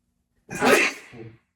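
A single sharp sneeze bursts out, preceded by a quick intake and trailing into a short breathy tail, close and clear.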